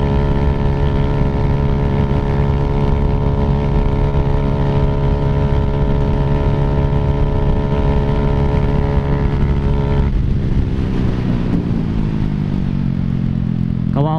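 A Suzuki Raider J115 Fi motorcycle fitted with a 16T sprocket drones loudly and up close at steady revs, then its pitch drops and shifts partway through, with no one talking.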